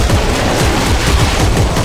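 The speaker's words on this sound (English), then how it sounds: "I feel like I waste a lot of ammo just blasting their dead body" Gunfire in the video game Dead Space 3, a loud, dense and continuous burst of rapid shots lasting the whole moment, with no voices over it.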